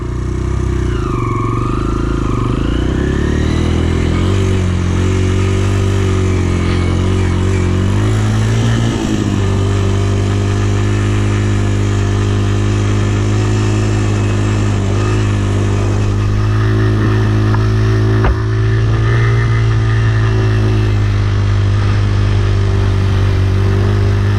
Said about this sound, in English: go into gear 1, give it a little gas, and slowly let go of the clutch until it's all the way out and you're moving